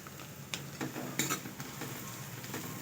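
Mixed vegetables for veg soup fry in ghee in a pan, a soft steady sizzle broken by a few sharp clinks of a spoon stirring against the metal.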